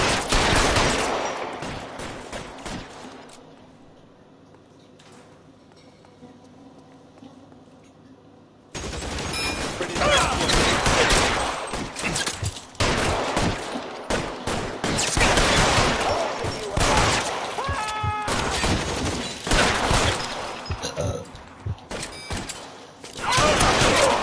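Heavy, continuous gunfire in the video game LA Noire, dense bursts and volleys over a long stretch after a quieter lull, with shouting voices now and then under the shooting.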